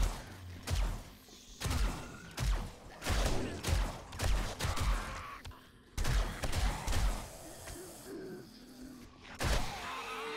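Bursts of gunfire in the 7 Days to Die zombie survival game, with repeated loud shots and thuds in uneven clusters, close and punchy, spread across the whole stretch with short gaps between volleys.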